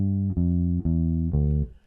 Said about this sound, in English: this is a classic descending walking bass line. It sounds like this.